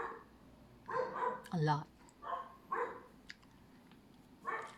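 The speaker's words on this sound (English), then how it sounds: "There's a lot of dogs out there" Several neighborhood dogs bark in short bursts at a moderate distance, with a few separate yaps spread over a few seconds, while a person talks over them.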